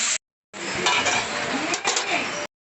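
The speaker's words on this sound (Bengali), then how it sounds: "এবার ঝোলটা ঢেলে দিচ্ছি" Curry broth pours steadily into a pan of fried five-spice for a taro and prawn curry, a broad, hissing rush starting after a brief clink and continuing for about two seconds before cutting off.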